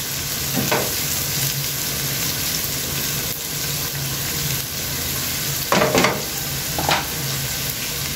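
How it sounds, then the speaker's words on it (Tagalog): Chopped onions fry in a pan with a steady, close sizzle that runs throughout, broken by a few louder bursts of stirring near the middle and end, with no voices. "Lutuin natin mabuti ang ating sibuyas."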